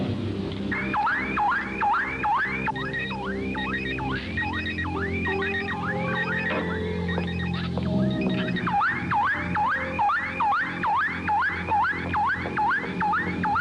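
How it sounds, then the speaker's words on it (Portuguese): A car alarm cycles through repeated rising warble tones, loud and close, with a brief stretch of mixed beeping chirps in the middle before the steady whooping pattern resumes. "Éloignez-vous ou je déclenche l'alarme."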